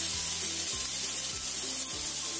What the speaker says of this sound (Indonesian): Kita tumis selama kurang lebih 3-5 menit